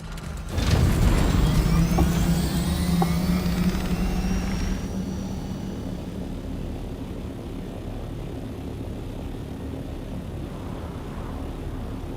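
Ornithopter flying in a survival video game, a loud whirring engine roar that swells in sharply after a moment, then fades to a lower steady hum that carries on to the end.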